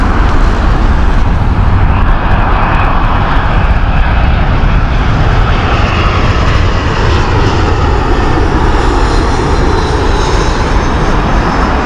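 British Airways airliner landing at Heathrow, a loud, continuous low engine roar that holds steady at close range throughout.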